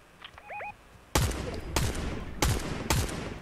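Four loud, sharp gunshots from a player's weapon in a shooter game, spaced evenly about half a second apart after a brief quieter lead-in with faint tones, each crack trailing into a short echo.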